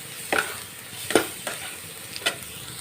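Spice paste being sautéed in a pan over a low flame for a Bengali fish tel potka dish; a few soft, separate spatula scrapes over a faint sizzle, quiet and close, with no talking.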